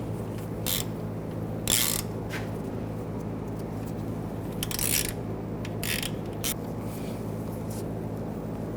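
A hand ratchet tightens an alternator bracket bolt on a 2006-2010 BMW 550i, giving several short bursts of close clicking over a steady low background hum.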